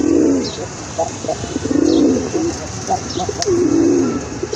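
A large male Giribaz pigeon coos repeatedly up close, loud rolling low calls in rhythmic phrases roughly every second, with faint chirps and a bit of wing movement around it.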